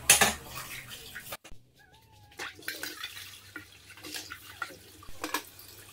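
Dishes, pots and pans being washed by hand under running water, with close clatters and clinks of cookware and cutlery, splashing and dripping, and a short squeaky sound partway through.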